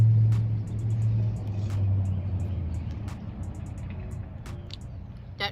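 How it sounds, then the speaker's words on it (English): A truck driving past outdoors, a deep low rumble that is loudest at the start and slowly fades as it moves away, with a few faint ticks and clicks on top. "That truck interrupted my bite."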